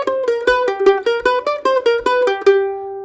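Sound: mandolin playing the slidey lick

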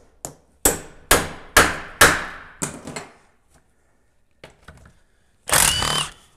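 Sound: hammer whacking a part out of a GM/Cummins 400 transmission

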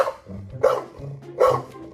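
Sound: dog barking in a Minecraft parody video

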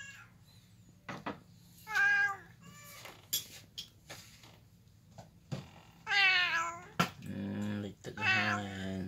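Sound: cat meowing

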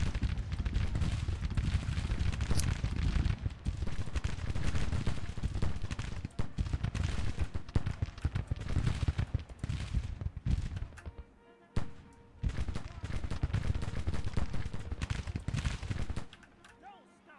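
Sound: musket and artillery gunfire in Grand Tactician: The Civil War video game

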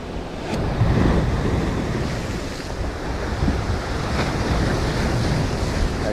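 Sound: ocean waves breaking on shore

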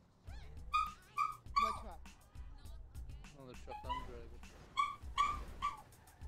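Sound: dog barking and whimpering

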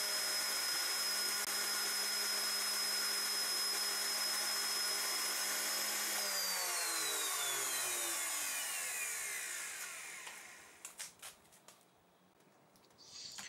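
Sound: router cutter cutting timber against fence

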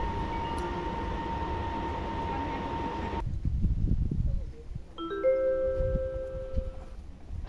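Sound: Arriva express train approaching station track

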